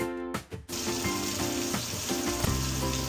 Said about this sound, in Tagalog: ilagay po muna natin yung giniling natin. Lutuin muna natin yung giniling.